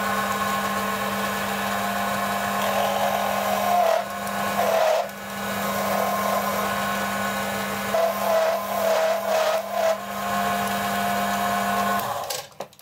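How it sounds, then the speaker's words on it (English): A metal gear blank has its end machined on a lathe, a loud steady cutting drone with a low hum and brief squealing tones, continuing alone until it stops near the end. "Next, I'll machine the end that will get clamped in the collet."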